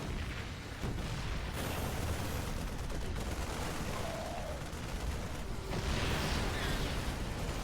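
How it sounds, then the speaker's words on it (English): Siege tanks shelling from high ground in a StarCraft 2 base-trade battle, a dense, continuous barrage of booming blasts and explosions, heavy and sustained throughout. "The siege tank on high ground doing serious damage."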